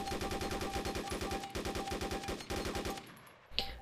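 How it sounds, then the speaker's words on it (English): An M16A4 with ACOG scope fires in rapid automatic bursts in the DayZ video game, loud and close, with short pauses between strings of shots before the shooting stops near the end. "Now when using the M16A4 ACOG, you probably don't want to aim down the ACOG to shoot CQB"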